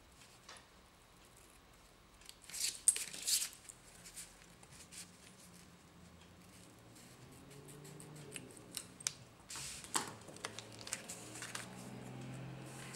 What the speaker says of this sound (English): And we'll just trim those ends.